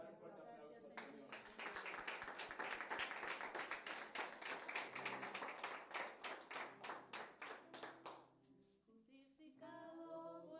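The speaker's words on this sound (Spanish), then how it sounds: "Dar un fuerte aplauso al Señor." A congregation at a church service bursts into loud, sustained rhythmic clapping for several seconds, the applause tapering into a few slower claps before fading, with voices faintly underneath.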